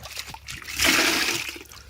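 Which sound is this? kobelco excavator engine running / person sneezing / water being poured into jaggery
water being poured into jaggery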